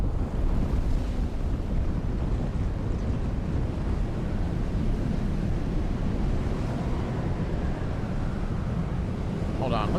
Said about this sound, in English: A large sandstorm is approaching.